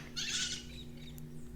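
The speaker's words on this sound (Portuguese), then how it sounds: "tem um casal de maritacas que moram aqui no condomínio. E elas sempre pousam nessa árvore à tarde e ficam berrando." Maritaca parakeets perched in a tree in a residential condominium give one harsh, raspy screech, then fainter calls follow over a low, steady background hum.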